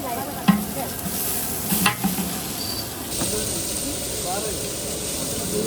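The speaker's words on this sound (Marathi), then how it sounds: "त्याच्यात आता कांदा टाकलेला आहे. फ्राय करून घेतात कांदा." Chopped onion fries in hot oil with bay leaf in a pan, hissing with a continuous loud sizzle while a spoon scrapes and stirs it now and then.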